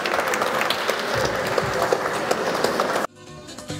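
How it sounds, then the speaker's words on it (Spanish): A crowd applauds loudly at the opening ceremony of the Dominican Patriotic Games in New York City, a dense continuous wash of clapping that cuts off abruptly near the end, leaving quiet room tone. "Un aplauso fuerte"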